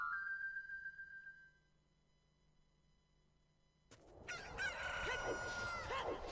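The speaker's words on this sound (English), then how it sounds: "I heard the cock-a-doodle-doo twice." A rooster crows cock-a-doodle-doo in the Zelda Ocarina of Time Master Quest video game, a clear sustained call; after a pause, busy game sounds and music burst in.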